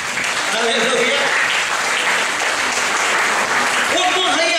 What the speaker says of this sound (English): Give the Lord the best clap of praise.